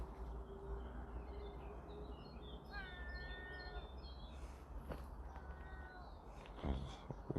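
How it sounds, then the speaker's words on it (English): An unidentified bird by a Swiss lake gives a series of short, rising whistled calls, fairly faint against a broad outdoor background hiss, with a few quiet clicks and knocks near the end. "what bird makes that noise?"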